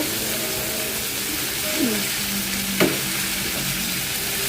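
Sarputi fish frying in a modest amount of oil in a pan, giving a steady close sizzle throughout with a few brief tonal clinks and scrapes, and no talking.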